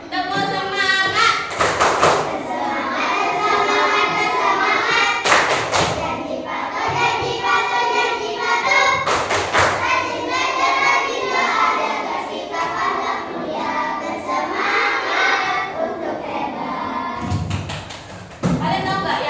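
Third-grade schoolchildren in an Indonesian classroom loudly chant a spirited 'tepuk semangat' clap routine together, their voices continuous and rhythmic, punctuated by sharp, heavy group claps and thumps at intervals.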